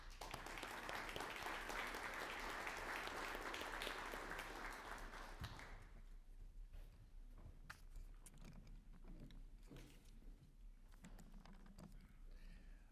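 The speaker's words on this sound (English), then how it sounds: "Let's give him a round of applause." Applause from a conference audience at a national security event, a dense patter of clapping for about six seconds before dropping to scattered faint claps and room noise.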